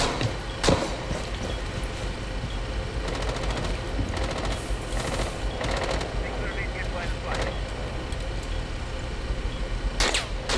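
Rapid gunfire crackles in a video game, bursts of automatic shots and scattered single cracks, some close and some distant, over constant background game noise.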